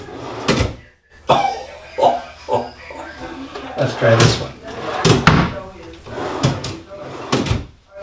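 A newly installed drawer on KV ball-bearing slides rolls and closes with a few rumbling slides and knocks, mixed in with someone talking nearby.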